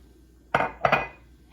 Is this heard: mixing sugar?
yes